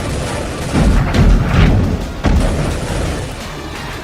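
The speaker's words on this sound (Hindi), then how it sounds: "ग्रैंड मल्टीपल रॉकेट लॉन्चर से दनादन रॉकेट्स दागे जा रहे हैं।" A Grad multiple rocket launcher fires in a combat setting, producing a loud rumbling roar with deep booming bursts that swell and fade over several seconds.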